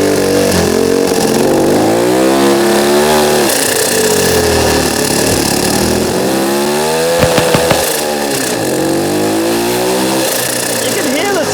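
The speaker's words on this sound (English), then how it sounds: "You can hear the turbo so loud." A 150cc turbocharged go-kart engine revs up and down repeatedly, loud and close, with a whining turbo and a few sharp pops, its pitch sweeping in waves under wind noise.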